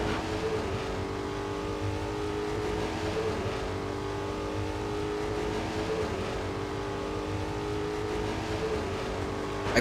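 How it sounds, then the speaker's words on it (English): A car driven in LEGO Batman: The Video Game, its engine drone steady and continuous throughout, droning loud and unbroken with no speech over it. "I park a car in this."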